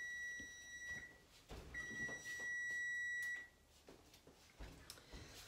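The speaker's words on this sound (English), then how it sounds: "So that was the timer for my bread." A kitchen timer for baking bread beeps in a home kitchen, sounding one steady tone for about a second, then pausing, then sounding a longer tone, with faint household noise underneath.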